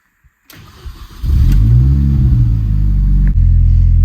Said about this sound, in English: let's plug it in, jumpstart this Mini